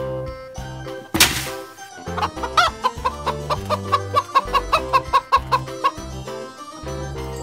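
A kids' toy plays a chicken sound, a loud sharp squawk followed by a rapid run of rhythmic clucks, with music in the background and no talking.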